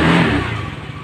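A Honda Vario 110 injection scooter engine runs just after starting, a short burst of close mid-pitched engine noise that eases off quickly as it settles.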